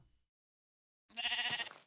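A single short sheep bleat, clear and close, follows a moment of near silence.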